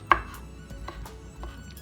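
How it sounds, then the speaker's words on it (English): A knife chops boiled, soft chicken liver and gizzards finely on a board, giving a quick series of close, crisp taps with one sharper first stroke. "And now it's easier to chop because it's boiled and it's soft."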